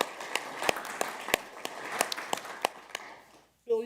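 Audience applause at a city council meeting, steady scattered clapping with sharp individual claps standing out, moderately distant in a room, ending abruptly before a voice starts speaking.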